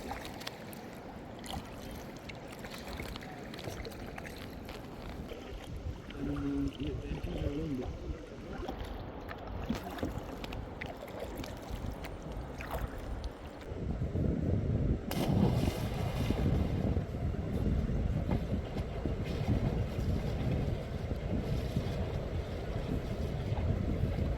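A kayak moves on the river at Dawki, Meghalaya, with steady water swishing and paddle wash under gusty wind buffeting the microphone. The sound grows louder and rougher in the second half, and no voices are clear.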